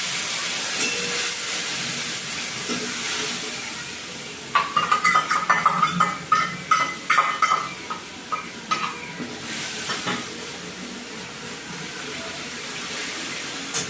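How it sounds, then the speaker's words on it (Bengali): Dry chilli, bay leaf and whole spices drop into hot oil for a vegetarian kundri curry, breaking a steady background hiss into a close burst of crackling, spitting sizzle that gradually settles. "তেলেতে আমি ফোড়ন দিয়ে দেবো তোমার একটা শুকনো লঙ্কা তেজপাতা আর গোটা দিয়ে ফোড়ন দিয়ে দিলাম"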